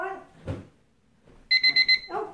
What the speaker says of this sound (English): Oh, there it is, timer.